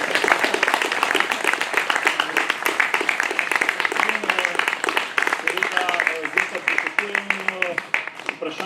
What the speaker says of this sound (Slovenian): Predlagam, da zaploskamo vsem tem.